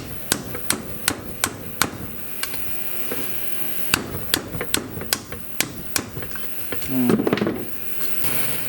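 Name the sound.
heavy hammer striking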